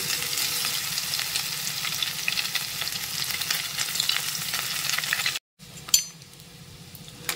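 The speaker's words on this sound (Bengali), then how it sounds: "কড়াই আমি তেল ভালো করে গরম করে নিয়ে একটা একটা করে ভেজে নেব" Soya chunks deep frying in hot oil in a wok over medium flame, a continuous close bubbling sizzle, then a short break followed by a quieter sizzle with a metallic clink.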